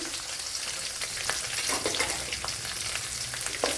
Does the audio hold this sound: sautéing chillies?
yes